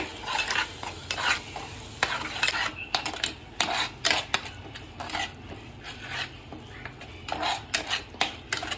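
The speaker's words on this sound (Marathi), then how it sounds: "हे तेल टाकून परत ह्यात थोडी पेस्ट ही टाकून सर्व शिजवून घेऊया" A spoon scrapes and stirs masala paste frying in oil in a metal pan for a matar paneer gravy, giving a busy mix of sizzle and repeated clinks and scrapes close by, with no voice heard.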